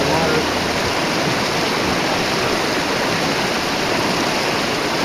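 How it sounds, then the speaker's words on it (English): Loud, continuous rushing of a stream tumbling and splashing over rocks, a dense close-up roar with no pauses and no voices. "All of this stuff where the water goes up in the air, and it adds oxygen to the water."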